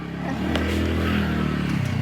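A car engine runs and revs up, a steady, close, mid-loud mechanical hum with a rising rev, no talk.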